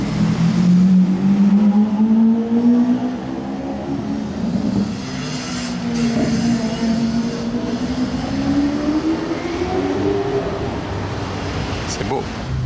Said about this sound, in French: La Miura, elle tourne beaucoup, décidément.